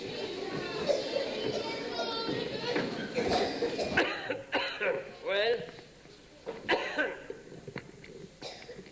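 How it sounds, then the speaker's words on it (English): Man coughing on stage during a village parish stage play, several harsh coughs in bursts mixed with voices and audience murmur and laughter in a hall. "he's coughing away"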